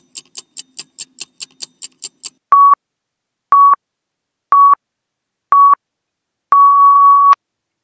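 Quiz countdown timer for a physics test series: a fast run of about a dozen sharp ticks, then four evenly spaced loud electronic beeps and a final long held beep, with no talking.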